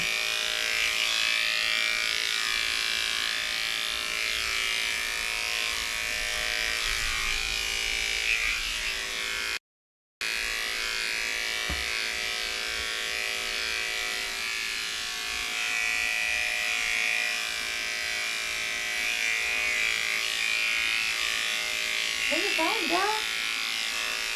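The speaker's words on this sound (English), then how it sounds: "she's absolutely going to flip when I put the blow dryer on" Blow dryer running steadily on a Cavoodle puppy, a continuous whirring drone that fills the clip with one brief cut-out, while a person talks softly over it.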